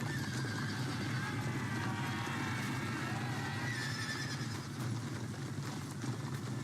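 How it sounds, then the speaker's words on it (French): Cavalry horses gallop in a Napoleon: Total War battle, a dense continuous drumming of hooves with occasional whinnies over a steady low battlefield rumble, fairly distant and mixed, with a voice talking faintly. "cavalerie va arriver au galop pour aider mon infanterie"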